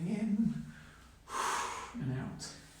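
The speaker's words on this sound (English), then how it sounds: "Breathing in" A deep, audible breath is drawn in through the nose and mouth during a total-body mobility exercise routine, preceded by a calm instructor's voice and followed by a second breathy intake.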